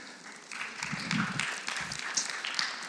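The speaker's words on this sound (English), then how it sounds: "Very tepid applause" Thin, scattered audience applause from a sparse crowd, a few hands clapping quietly and unevenly for a couple of seconds without building to a full ovation.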